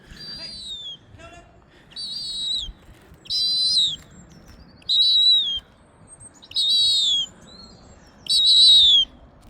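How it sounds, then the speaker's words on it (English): An owl gives a series of five or six short, high squeaky kissing calls in an even rhythm, close and clear against a quiet background. "that's a kiss from an owl"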